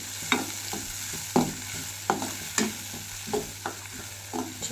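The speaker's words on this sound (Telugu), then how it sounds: "మనం ముందుగా తయారు చేసి పెట్టుకున్న సాస్ యాడ్ చేసుకుందాం. ఇది మొత్తం ఇట్లా మంచిగా కుక్ అవ్వాలి." Chicken Manchurian sauce sizzles and fries in a pan while being stirred, with a steady hiss broken by repeated scraping strokes about once a second, close up and with no talking.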